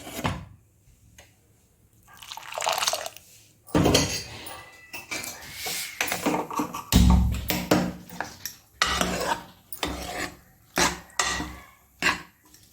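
Jaggery syrup is poured into cooked lentils in a pot for sweet lentil balls and stirred in, with intermittent clinks, scrapes and wet stirring sounds from a spoon against the vessel.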